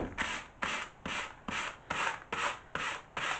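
A sanding block is rubbed along the edge of a decoupage piece in eight regular strokes, each a rasping scrape of about a third of a second, close and clear, with short pauses between them and no talking.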